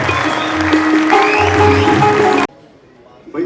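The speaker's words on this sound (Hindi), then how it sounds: "आपकी बहुत अच्छी वाली तालियां होंगी तो उन्हें गाना बहुत अच्छा लगेगा" Audience at a ghazal festival in Alhamra Hall, Lahore, clapping to welcome a singer, a loud, dense burst of applause mixed with voices that stops abruptly after about two and a half seconds.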